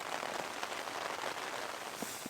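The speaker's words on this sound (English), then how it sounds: "There's no shaking in the tent, just the rain." Steady rain patters on a Hilleberg Nammatj 2 tent in the mountains, a soft dense hiss with a few sharper individual drops near the end, calm and without wind or voices.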